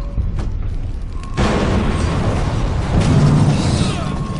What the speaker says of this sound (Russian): Все взрывается.